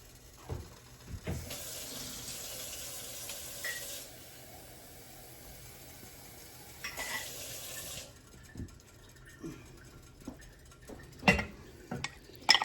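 Cold water runs from a tap in two steady streams into a bowl of cornstarch, then a few clinks and light knocks of the bowl or utensils, close and fairly quiet.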